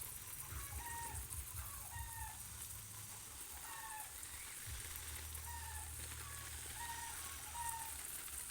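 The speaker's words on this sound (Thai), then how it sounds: "เสียงไก่กระตากเริ่มใหญ่แล้วเด้อ" Hens cluck on a rural coffee farm, a series of short, repeated, rising calls at a moderate distance, fairly faint over a low background hum.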